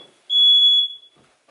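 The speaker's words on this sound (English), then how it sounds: "Every time I open my oven, the fire alarm goes off." A smoke alarm sounding in a home kitchen after an oven door is opened, giving one loud, sustained high-pitched electronic beep of about half a second, with no speech.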